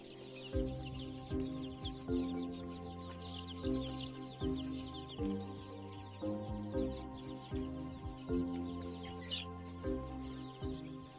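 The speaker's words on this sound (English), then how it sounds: "This is the third week chickens." Three-week-old chickens on a farm cluck and peep continuously in a busy, overlapping chorus, with soft chirps and shuffling underneath.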